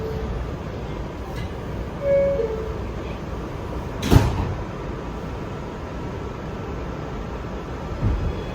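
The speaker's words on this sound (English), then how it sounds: "This is a Brooklyn-bound B train via the Q line." R211 subway car rumbling steadily along on a Brooklyn-bound B train ride, with a constant loud track roar, a sharp clunk near the middle and a few faint tones over the din.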